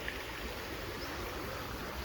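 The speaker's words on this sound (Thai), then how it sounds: "เป็นลำธาร" A flowing stream at a campsite in Pak Chong, Thailand, a steady, broad wash of running water that holds even and close throughout, with no voices over it.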